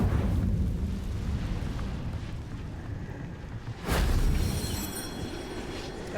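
Incendio fire spell cast in Hogwarts Legacy: a steady rumbling roar, then a sudden loud burst of flame about four seconds in that swells and rushes on, heard alone without speech.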